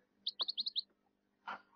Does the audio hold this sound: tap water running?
no